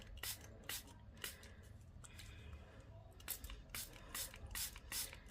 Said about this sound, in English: I'm going to spray water all over that now